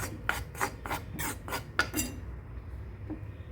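Rice flour dry-roasting in a pan as it is stirred, a quick series of about six close, gritty scraping strokes that stop abruptly and give way to quiet.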